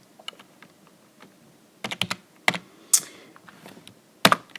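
Typing on a computer keyboard while building a presentation in LibreOffice, with sparse soft keystrokes then a quick cluster of clicks and a few sharper, louder key taps, close and isolated.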